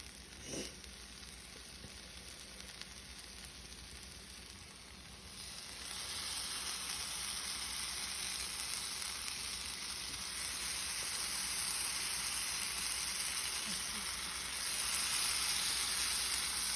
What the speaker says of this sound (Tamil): இவ்வாறு ஒவ்வொன்றாக இதில் போட்டு சிறிது எண்ணெயை மேலே விட்டு ரெடியானதும் அதை அடுத்த பக்கம் திருப்பி போட்டு எடுக்கவும்.